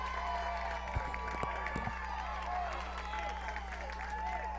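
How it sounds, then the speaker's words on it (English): A baseball crowd in Darlington applauds and cheers after a bases-clearing double, with a steady wash of clapping and crowd noise and a few sharper bursts, over a constant low hum. "That gets the Darlington crowd on their feet."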